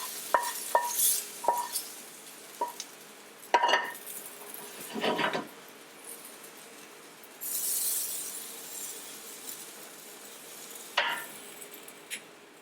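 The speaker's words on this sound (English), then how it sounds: "It's as simple as just mix this in now" Risotto is stirred and mixed in a pan, with sporadic clinks and scrapes of a utensil against the pan and occasional brief rustling bursts, quiet and close, without speech.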